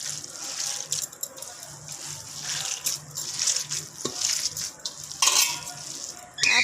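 Chapli kabab spice mixture being mixed in a bowl, a close, busy run of wet squelching, scraping and clinking against the bowl, uneven in rhythm, with no talk over it.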